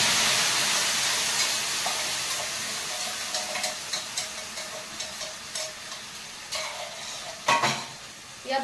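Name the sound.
spice paste sizzling in hot oil with cumin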